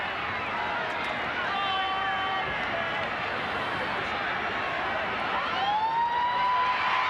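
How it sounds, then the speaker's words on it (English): A sustained full-time siren tone rises and holds over a loud, roaring stadium crowd at a 1986 rugby league match, Manly Sea Eagles v Parramatta Eels, with commentary voices running underneath. "And there's the siren."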